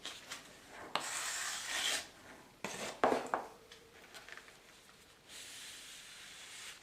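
A ruler is pressed firmly and scraped across the icing on top of a large cake, giving several soft, raspy rubbing passes of a second or two each, separated by short pauses and faint knocks, heard close and quiet.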